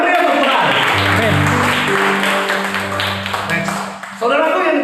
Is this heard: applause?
yes